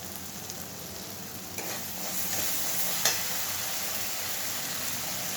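Slit green chillies drop into hot frying oil for a Bengali tel koi fish curry, giving a steady close sizzle and crackle with a few sharper pops and stirring scrapes, no voices.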